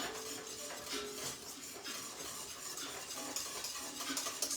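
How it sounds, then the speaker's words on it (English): Grits being whisked in a pot, a steady, busy scraping and swishing with faint metallic clinks that runs on without pause at moderate loudness, no voices. "Still whisking."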